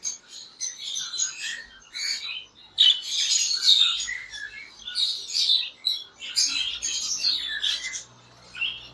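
Breeder pair of pet birds at a bird exhibition in Islamabad, chirping and squawking in quick, busy bursts, close and fairly loud, with faint background noise beneath.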